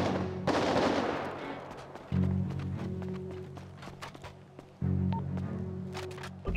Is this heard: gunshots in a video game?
yes